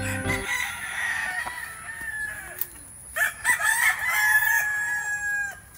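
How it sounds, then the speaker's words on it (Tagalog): A fighting cock on a farm crows in the open, with long rising-and-falling calls in a couple of bursts, fairly close, over a low background of rustling and faint farmyard noise. "Ito yung mga manok natin"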